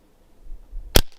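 One crisp report from a .177 Barra 1100Z PCP air rifle discharging a pellet outdoors, a quick loud snap following near-silence, with a faint trailing ring.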